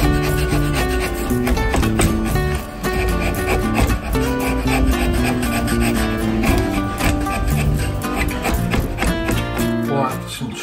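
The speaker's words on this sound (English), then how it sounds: "Chiseling, taking some wood off and some sanding, this is what we've got." Wood being hand-sanded and rasped while shaping a wooden spoon fishing lure, with dense, rhythmic scraping strokes that are loud and close, continuing steadily over background music.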